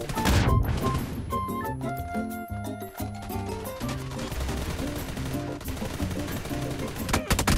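Among Us animated skin on an M4 rifle firing in a video game, a dense run of rapid shots that carries on for several seconds, loud and close, with bright tonal game effects layered over it.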